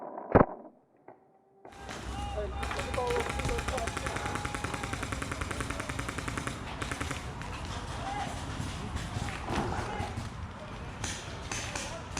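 Rapid paintball marker fire, given as supporting fire during a scenario paintball game at Extreme Rage in Hollywood, Florida, rattles steadily for about ten seconds after a sharp opening pop, moderately close.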